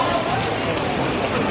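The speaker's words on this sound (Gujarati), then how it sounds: "અહીંયા એટલો વરસાદ ચાલુ છે ને કે અહીંયા અમે માર્કેટમાં ઊભું રહેવું પડ્યું" Heavy monsoon rain falls on a market in Dakor, a loud, unbroken roar of drops close by with no break in intensity and no voices.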